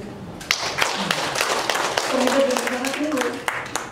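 Audience at an Islamic religious talk breaks into applause, a steady wash of clapping lasting several seconds with a voice speaking over it partway through.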